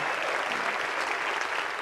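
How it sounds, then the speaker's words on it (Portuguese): A church congregation at a worship service claps loudly and steadily, a dense continuous wash of applause with no pauses. "aplauda forte aí, por favor, Lagoinha."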